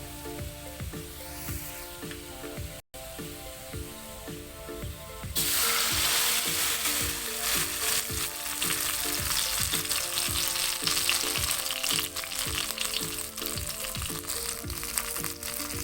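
Bumbu spice paste fries in hot oil for Acehnese tumeh muloeh with milkfish, a steady crackling sizzle that grows louder and denser midway as more paste hits the pan, with occasional stirring scrapes.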